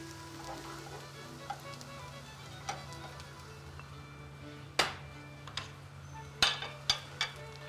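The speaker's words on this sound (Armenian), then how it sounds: "Մենք կարող ենք արդեն տապակել սմբուկը" Eggplant frying in olive oil makes a faint, steady sizzle, broken by a few sharp utensil clicks and knocks toward the end.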